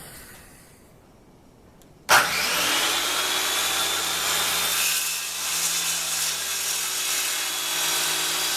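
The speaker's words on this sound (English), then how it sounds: "we just finish her off with the handsaw" Handsaw cutting through wood in a woodshop, starting abruptly after a quiet moment and then continuing as a steady, loud, rasping stroke for several seconds, with no talking.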